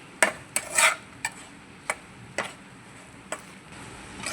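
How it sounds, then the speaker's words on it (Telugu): Spoon scraping and tapping against a pan while carrot rice is stirred, a few sharp clinks followed by scattered lighter taps, close and fairly quiet with no talking. "ఒకసారి తిప్పుదాం ఫ్రెండ్"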